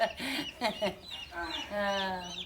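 Old backyard chickens cluck in short bursts, then give a longer drawn-out call, close and fairly loud with a person speaking alongside.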